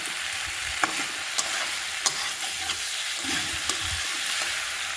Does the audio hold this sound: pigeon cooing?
no